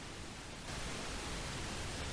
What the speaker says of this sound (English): Let's run more pink noise to it.